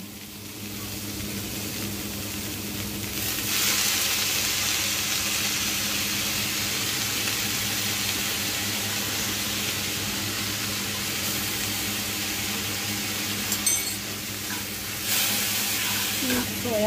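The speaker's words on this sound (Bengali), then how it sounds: "কেটে রাখা টমেটো টমেটোটা দিয়ে একটু নাড়াচাড়া করে" Chopped tomato is stirred and fried in a hot pan for pasta, a continuous moderate sizzling hiss with occasional stirring movements, close by and steady throughout.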